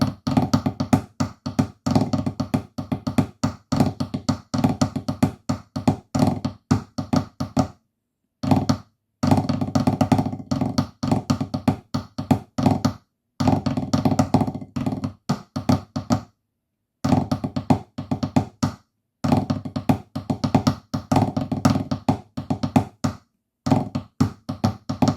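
The whole Illawalla marine solo tune on snare drum, a long run of dense, crisp strokes and rolls broken by a few brief pauses between phrases, played close with nobody talking.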